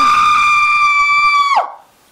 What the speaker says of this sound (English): suddenly Paige and Lily heard a terrified scream coming from Nigel's